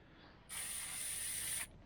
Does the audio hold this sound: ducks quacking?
no